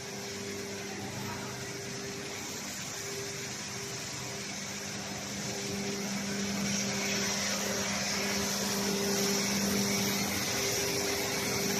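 A fan runs steadily inside an industrial dryer for fiber cement board panels, giving a constant mechanical whir and hum with a faint tonal drone, growing slightly louder partway through.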